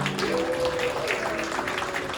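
A wedding hall crowd applauds steadily, a dense wash of clapping that carries on throughout, with faint tones in the background.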